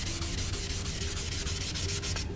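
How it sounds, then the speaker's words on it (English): Wet sanding of clear coat on a motorcycle part from an FZR restoration, a close, continuous rhythmic rubbing with steady back-and-forth strokes and no talk. "I'm sanding in this direction."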